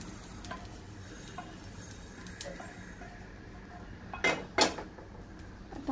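Roasted mustard and fenugreek seeds are tipped from a pan into a bowl, with faint background hiss giving way to a few quick metallic clinks and scraping rattles near the end.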